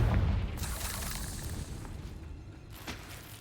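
Confringo fire-blast spell from Hogwarts Legacy bursting with a loud low boom at the start, its rumble fading over a few seconds as a second, smaller crack lands near the end.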